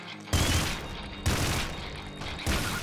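Slow, heavy gunfire from a low fire-rate weapon in the video game Nuclear Throne, three loud, booming shots spaced about a second apart, each followed by a sustained rumbling decay, with no talking over it.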